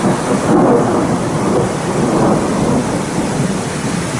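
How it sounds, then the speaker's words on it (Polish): Thunder rolls continuously with steady rain falling at a mountain hut on a hiking route, a dense, sustained rumble and hiss with no voices. "Grzmi i pada."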